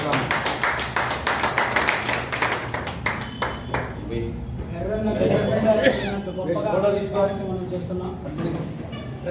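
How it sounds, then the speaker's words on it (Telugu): Audience applause at a book launch event, a burst of rapid clapping that fades after a few seconds into murmurs, coughs and people talking in the room. "దయచేసి అందరూ కూడా చప్పట్లతో వారికి అభినందనలు తెలపాల్సిందిగా విజ్ఞప్తి"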